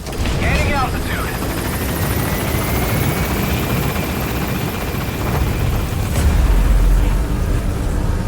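Pequod helicopter from Metal Gear Solid V climbing into the sky, a loud steady rotor roar with a rising engine whine, growing heavier near the end, with game effects layered on top.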